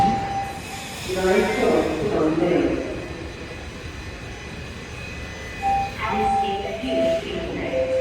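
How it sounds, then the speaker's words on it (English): A Toronto TTC subway train rumbling and screeching through a station, a steady loud roar with squealing wheel tones, voices murmuring faintly underneath. "There goes the train."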